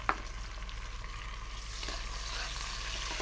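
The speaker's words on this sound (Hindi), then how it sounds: "अब इसके अंदर हम टमाटर डाल देंगे" Onion and tomato frying in a pan for mixed moong-masoor dal tadka, a continuous close hiss of sizzling oil with a single sharp clink at the start and no speech.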